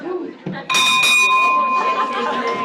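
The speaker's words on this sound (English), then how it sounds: "I'll ring that bell really loud when it's time" A hand bell rung loudly to announce dinner sounds a bright, sustained clanging ring that starts abruptly and lingers for about two seconds, close and loud, following a moment of indistinct talk.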